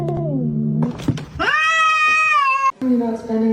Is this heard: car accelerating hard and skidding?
no